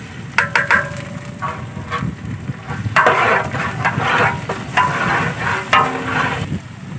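Garlic-ginger paste and green chili paste fry in a large degi pot of chana biryani, a continuous close sizzle with bursts of stirring and scraping.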